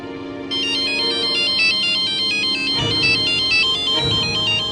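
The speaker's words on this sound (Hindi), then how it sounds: "और उन्हीं का फोन है।" A mobile phone ringtone plays loudly and close, a bright repeating electronic melody of stacked tones that starts abruptly and continues steadily, with no talking over it.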